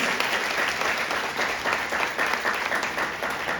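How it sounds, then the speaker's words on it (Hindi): Audience applause for a speaker at a business founder's talk, steady dense clapping from a large crowd filling the whole few seconds, loud and close with no voices over it. "बहुत ही बढ़िया सर के लिए जोरदार ताली दीजिए।"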